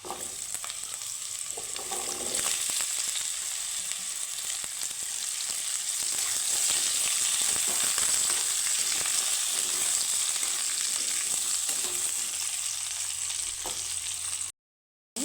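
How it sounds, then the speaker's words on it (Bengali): Papaya pieces fry in a little oil with ginger in a pan, giving a steady, loud sizzle that runs almost the whole time, with occasional soft stirring scrapes, then cuts out at the very end. "এখন আমি দিয়ে দেবো পেঁপেগুলো পেঁপেগুলো ভেজে নেব"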